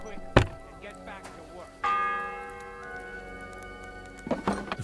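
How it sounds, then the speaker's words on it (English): A single church bell strike rings out in the medieval video game Kingdom Come Deliverance II, a clear toll with a long shimmering decay, framed by thumps and faint voices in the background. "The first bell."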